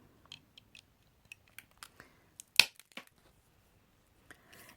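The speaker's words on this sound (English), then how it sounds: "We'll put our nippers in there and we'll cut." Tile nippers snap through small mosaic tiles in a run of sharp, separate clicks and crunches, one louder crack standing out among them, all close and alone with no talk.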